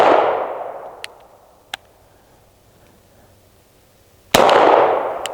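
Two loud, sharp CZ P-07 pistol shots with a ringing decay, one at the start and one near the end, fired in double action. Faint clicks fall between them.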